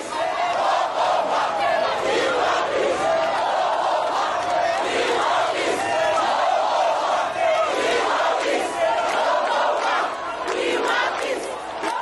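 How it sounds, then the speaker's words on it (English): A large crowd in the streets of war-torn Monrovia chants for peace, a loud, continuous mass of voices with rhythmic swells and shouts sustained throughout. "while the crowds chant for peace"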